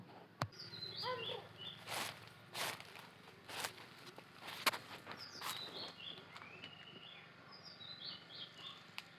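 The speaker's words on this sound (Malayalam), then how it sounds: "രാവിലെ ആയതുകൊണ്ട് ഇവിടെ നല്ല പക്ഷികളുടെ സൗണ്ടൊക്കെ കേൾക്കുന്നുണ്ട്" Birds chirp and twitter on a morning outdoors, with repeated short high calls from several directions at moderate distance, mixed with faint footsteps and soft thumps nearby.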